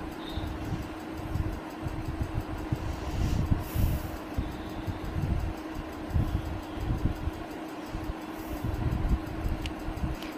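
Passenger train moving through forested country, a steady low rumbling drone with irregular rattling thumps and a faint hum, heard from inside the carriage with no talk.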